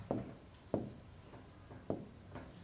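Faint scratchy strokes of writing on a board or paper during an English grammar lesson, three distinct scrapes at a steady pace in a quiet room, with no talking.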